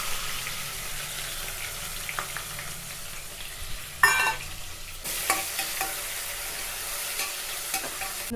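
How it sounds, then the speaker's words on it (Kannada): Two onions fry in oil with biryani spices for a mushroom pulao, giving a continuous soft sizzle with occasional stirring clatter and a sudden louder burst midway. "ಇದು ಫ್ರೈ ಮಾಡ್ಕೊತಾ ಇದ್ದೀನಿ. 2 ಆನಿಯನ್ಸ್ನ ಸೇರಿಸ್ಕೊತಾ ಇದ್ದೀನಿ."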